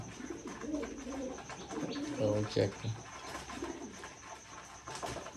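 Pigeons coo softly in a loft, several low, throaty calls repeating close by, with a few brief spoken words among them.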